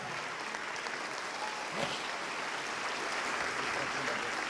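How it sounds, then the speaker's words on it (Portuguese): A church congregation applauding during a service: dense, steady clapping from many hands that fills the room without a break, with faint voices underneath. "Vamos aplaudir mais, igreja."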